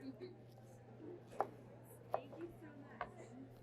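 A knife slices pineapple into bite-sized pieces for a no-tuna poke bowl in a teaching kitchen. Three sharp, faint cuts land about a second apart over a low steady hum.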